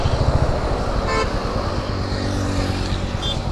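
Steady road traffic with passing cars and a couple of short car horn toots, heard loud and close from the roadside at dusk in the Gurgaon area.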